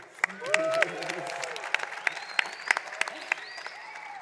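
A Miami conference audience applauds with steady clapping, joined by scattered whoops and cheers that rise and fade across the room, fairly close and continuous.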